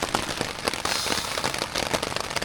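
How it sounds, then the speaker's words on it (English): Heavy rain drums steadily on a camping tent in Scotland, a dense, close patter of countless drops with no voices. "This rain is getting out of hand."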